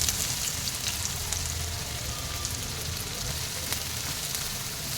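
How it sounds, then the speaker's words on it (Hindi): Onions sizzle steadily in about four to five tablespoons of hot oil in a pan already holding fried potatoes. The crackle is dense and close, with faint stirring and no talk. "प्याज को हमको अच्छे से भूनना है।"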